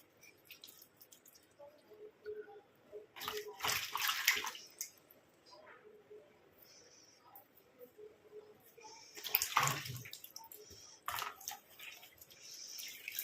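Hands splash water onto a face during washing: a few close bursts of splashing and dripping between quiet pauses, with a voice speaking softly at times.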